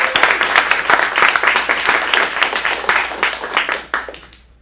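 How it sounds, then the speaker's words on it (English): A round of applause for a performer at an adult acting studio showcase in Phoenix, lively clapping from a small audience with sharp individual claps, easing off and fading out near the end. "Let's give Garrett a round of applause"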